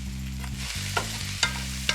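Zucchini sizzles in a frying pan with browning onions and yellow squash, a steady close hiss of frying under a low hum, broken by a few clattering stirs.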